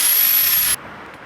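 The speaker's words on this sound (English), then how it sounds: "I'm drilling out my old screws that I snapped off" A power drill bores out old snapped-off screws on a motorbike in Santiago, a loud, close, high whine that cuts off abruptly partway through, leaving faint quiet.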